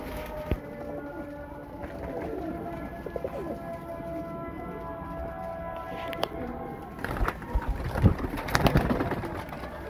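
Highflyer pigeons in Faisalabad cooing in soft repeated low calls, with a voice speaking and intermittent background rumble and clatter.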